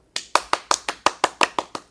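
In a studio, a few people clap in a farewell, about ten crisp evenly spaced claps over under two seconds, close and clear against silence.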